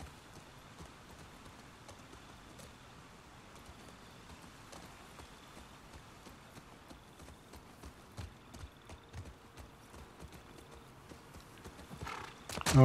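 Horse hooves clip-clop steadily at a moderate pace in the video game The Last of Us Part II, with a faint whinny and soft rain-like patter in the background; no one speaks.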